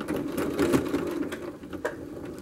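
A home sewing machine stitches back and forth through layers of slippery, gauzy tulle on a skirt hem, a close, steady whirring run of a few stitches with a brief knock near the end.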